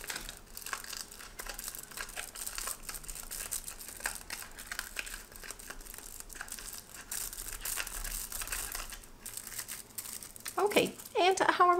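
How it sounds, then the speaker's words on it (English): Thin foil paper crinkles and rustles almost continuously while being handled gently for a robot craft, close and steady, with a brief voice near the end. "this paper, this foil is really easy to rip"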